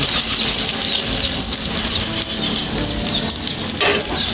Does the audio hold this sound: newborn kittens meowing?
no